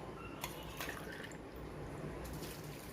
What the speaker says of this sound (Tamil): இதுக்கு நான் மூணு டம்ளர் தண்ணி ஆட் பண்ண போகிறேன்